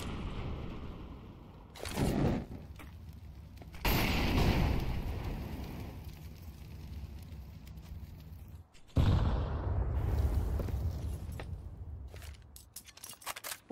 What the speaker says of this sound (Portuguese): Olha, os tiros passando.